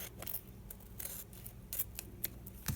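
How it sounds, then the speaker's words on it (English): Scissors snip through paper while trimming an edge for a handmade lap book, a run of short, crisp cuts close by at a quiet level. "I am going to just cut this right off"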